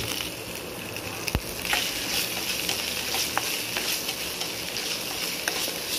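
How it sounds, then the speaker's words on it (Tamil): Tomatoes with salt frying in a pan for pav bhaji make a continuous close sizzle, with a few light taps and scrapes of stirring. "கொஞ்சம் ஜூஸ் எல்லாம் வெளியே வர வரைக்கும் நம்ம தக்காளியை நல்லாவே வதக்கி விடுவோம்."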